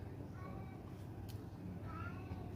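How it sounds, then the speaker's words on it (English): A domestic cat meows and cries indoors in a couple of short, mid-loud calls over a steady low background hum. "And now the cat is crying"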